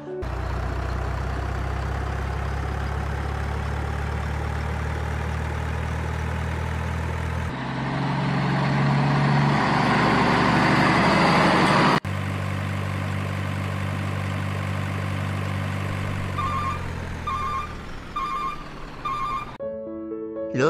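Motorcycles pull up in front of a house and idle in a steady low engine rumble, one revving briefly louder mid-way before settling, with a few beeping tones near the end and no talking.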